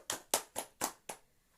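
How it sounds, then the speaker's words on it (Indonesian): Children in a classroom clap their hands five times in a quick, even run of single sharp claps, then stop; quiet and close, with no talking. "kita beri tepuk tangan buat teman kita"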